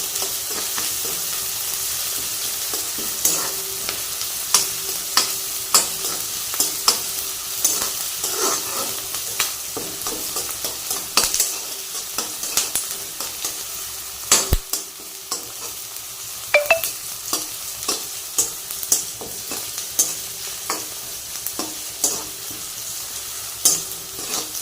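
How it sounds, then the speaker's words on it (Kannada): Cumin seeds and salt frying in oil in a pan for palak mushroom pulao: a continuous close sizzle with repeated scraping and clinking strokes of a spoon stirring, going on for a long stretch without talking. "ಫ್ರೈ ಆಗ್ತದೆ"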